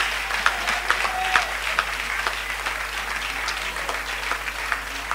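A church congregation applauds after a French-language sermon prayer, steady dense clapping with a few louder individual claps standing out, continuous throughout at moderate distance.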